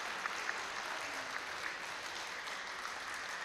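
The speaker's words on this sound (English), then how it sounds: "Round of applause for everyone." Audience applause at a badminton final at the YONEX Sydney International, a steady broadband clapping wash with a few sharper claps standing out, fairly distant and moderate in level throughout.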